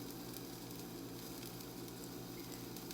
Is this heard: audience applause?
no